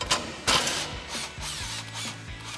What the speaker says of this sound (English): So we'll grab our 15 mil socket on our impact and go ahead and run that bolt out